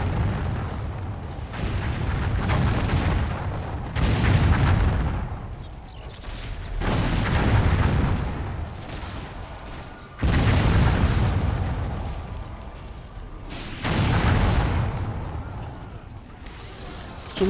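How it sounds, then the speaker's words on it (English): Cannon fire in the Warhammer Online video game booms out in a run of heavy blasts, about five deep explosions spaced a few seconds apart, each trailing into a rumbling decay, with a little voice in the background. "Somebody's firing a bloody cannon."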